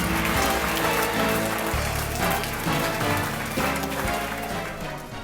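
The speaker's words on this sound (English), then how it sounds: "Give a warm round of applause for the lovable green elf himself" Audience applause at a Pokémon-themed talk show, a loud, continuous patter of clapping mixed with music that carries on throughout.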